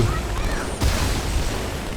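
Plasma grenade explosion in Halo 2: a low boom bursts out about midway through, over a steady wash of in-game battle noise and ambient rumble.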